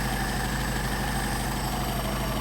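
A Mercedes 190SL engine fitted with Solex 44PHH carburetors idles steadily, a loud, close, continuous rumble with an even low throb and no talk over it.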